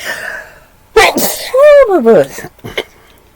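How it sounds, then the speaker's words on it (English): One loud, close sneeze with a sharp voiced burst and a falling tone, followed by a short breathy tail, with quiet around it. "Excuse me, I gotta sneeze."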